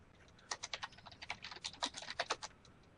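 Fast, light plastic clicks from a computer mouse and keys while healing in an online raid game, coming in quick irregular bursts, close and fairly quiet with no talking.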